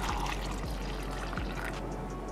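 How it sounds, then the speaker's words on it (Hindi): Water from a glass pours into a smoothie blender jar holding mango, pineapple slices and oats, giving a steady close trickle and splash throughout. "नेक्स्ट इसमें डालूंगी मैं 1 गिलास हमारा पानी."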